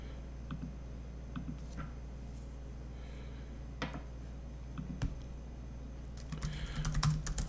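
Sparse keystrokes on a computer keyboard as a product title is typed for an online store listing, scattered light clicks over a steady low hum, growing into a denser burst of typing at the end.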